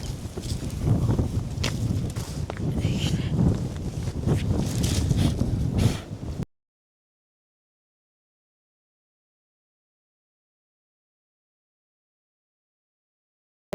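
Strong gusty wind at a forest campsite buffets the microphone with a heavy rumbling roar for several seconds, then cuts off abruptly into silence.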